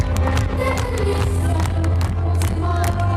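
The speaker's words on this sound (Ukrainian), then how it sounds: "Зал аплодує стоячи." A theatre audience gives a standing ovation at the premiere of a 3-D show, dense sustained clapping with scattered cheers filling the hall loudly and steadily.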